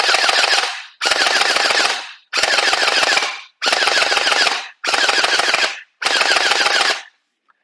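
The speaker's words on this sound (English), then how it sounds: "So shoots fast. It seems to shoot hard compared to the other VDD ones." A VDD Toys HK-416 gel ball blaster fires six loud, sustained full-auto bursts of about a second each, separated by short pauses, close up and with no talking.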